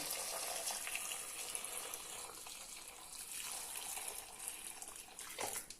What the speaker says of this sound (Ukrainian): Заливаємо окропом і варимо.